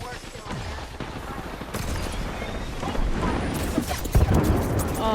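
Rapid bursts of gunfire and explosions crackle through a frantic firefight in the battle royale game Apex Legends, loud and dense throughout, with voices calling out over the shooting.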